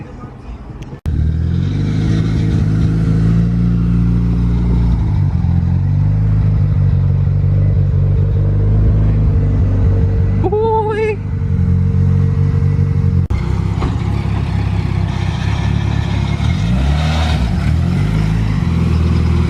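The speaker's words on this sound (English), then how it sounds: "that Kelly built oval exhaust" A Honda EG Civic with a custom-built oval exhaust idles loud and close, with a low rumbling drone, a short rise in pitch partway through and some background clatter.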